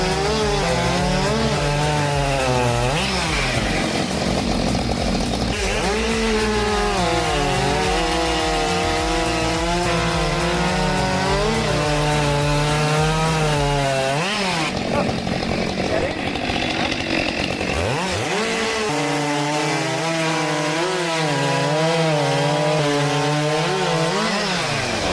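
A Husqvarna 572XP and a Stihl MS 462C chainsaw cut wood in turns, their loud engines whining and bogging in pitch with each cut, with short drops between bursts and revs climbing back up.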